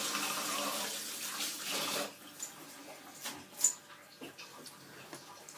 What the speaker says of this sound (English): Right, quick wash of my hands.